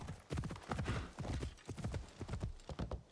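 Hooves of a summoned horse mount in Assassin's Creed Shadows, a quick, regular clip-clop of steps close by and fairly loud, continuing steadily for a few seconds with no talking.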